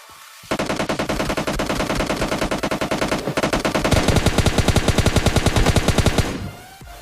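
Loud, sustained automatic gunfire in PUBG Mobile Lite rattles for about six seconds in a fast steady rhythm, briefly dipping midway before a second heavy burst, then stopping.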